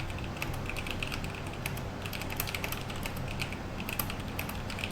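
Rapid computer keyboard typing, light clicks and clacks in an uneven stream, heard faintly over a quiet room with steady background hum.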